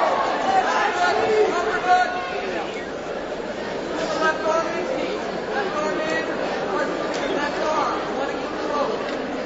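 A fight crowd at a mixed martial arts bout, Richard Schiller against Steve Magdaleno, keeps up a steady, moderately loud murmur of chatter and babble that swells slightly and eases throughout, with no single voice standing out.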